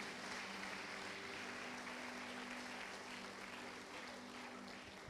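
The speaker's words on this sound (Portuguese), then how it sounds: "Pode bater palmas se for para Ele, meus irmãos" A church congregation claps during a worship session, a continuous, even wash of many hands that sounds distant and faint, holding steady throughout with a low musical hum beneath.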